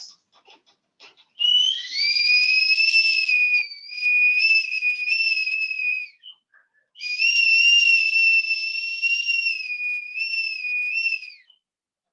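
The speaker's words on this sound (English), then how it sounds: "The insistent tapping on the door and the windows and the whistling." An eerie, high, wavering whistle sounds in two long sustained phrases separated by a brief pause, each gliding slightly in pitch, clear and alone against silence.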